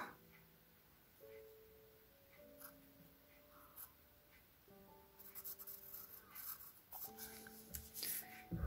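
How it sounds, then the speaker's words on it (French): A pencil draws a curve on a paper pattern for a small reversible slipper, faint close scratchy strokes under a quiet background with soft tonal hum. "Et on dessine notre petite courbe."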